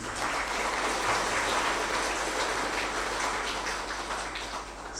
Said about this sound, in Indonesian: Kita berikan aplaus kepada Pak Arifin.